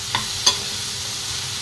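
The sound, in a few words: okra frying on low flame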